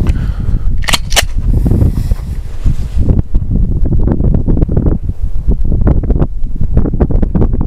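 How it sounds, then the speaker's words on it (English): A Glock 19 pistol with a 4-inch barrel fires 9mm Underwood +P 68-grain Xtreme Defender rounds outdoors: two sharp, loud cracks in quick succession, then heavy wind buffeting the microphone. "Let's try our Glock 19 with a 4-inch barrel."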